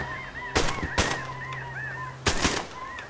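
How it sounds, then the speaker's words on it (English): Shotguns fired at Canada geese during a Hudson Bay goose hunt: three sharp loud blasts, two close together and one a moment later, over a background of honking geese. "Oh, very nice shooting, Erik."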